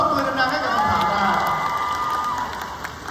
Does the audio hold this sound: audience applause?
yes